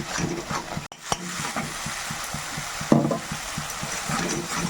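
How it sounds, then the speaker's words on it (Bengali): Poppy seed paste is stirred in an oiled pan, soft rhythmic scraping strokes over a constant sizzle, close up with one sharp knock early on and no speech. "পোস্তটা একটু নাড়িয়ে নেব"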